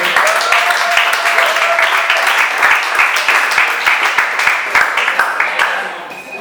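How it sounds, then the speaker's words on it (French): A game-show studio audience applauds steadily, dense clapping filling the space, with a few sharper individual claps near the front before it begins to fade. "Est-ce qu'on peut applaudir pour elle?"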